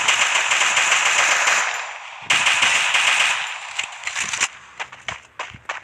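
Rapid automatic gunfire from a video game, a dense sustained burst that stops, then resumes with a shorter spray of shots and scattered single cracks, loud and close.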